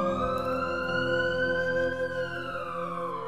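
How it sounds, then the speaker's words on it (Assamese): A vehicle siren wails somewhere nearby as it passes, a steady harmonic tone whose pitch slowly rises and then bends downward, heard clearly against an otherwise quiet background. "ক'ৰবাত চাইৰেন মাৰি গাড়ী এখন পাৰ হৈ গৈছে।"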